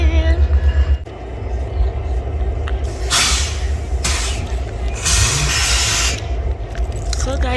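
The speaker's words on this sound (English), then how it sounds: "That's the Christmas train." A Christmas holiday train passes outdoors in winter, opening with a loud rhythmic low rumble, then long hissing bursts of air and scraping rail noise. People talk over parts of it.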